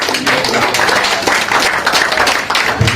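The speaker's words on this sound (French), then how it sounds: "Applaudissez-vous vous-même." An audience at an investiture ceremony in Abidjan applauds itself, a dense, lively round of clapping from a crowd close by, with some individual claps standing out and a few low thumps near the end.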